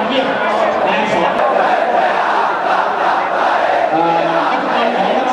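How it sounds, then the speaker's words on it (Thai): Crowd cheering at a school football event, a sustained roar of many voices with shouted chants rising and falling, loud and continuous. "เป็นเสียงเชียร์นะ"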